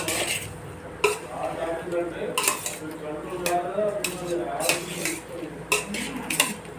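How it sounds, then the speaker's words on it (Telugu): Paneer, capsicum and onion pieces are tossed with masala in a metal bowl, giving repeated clinks and scrapes of a spoon against the dish, with a voice speaking softly underneath. "ఇదంతా బాగా ఇప్పుడు మిక్స్ చేసేస్తాను."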